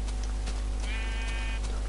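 A Minecraft sheep gives a single short, wavering bleat, close and clear, over a loud constant low hum and background noise.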